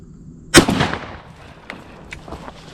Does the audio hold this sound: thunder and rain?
no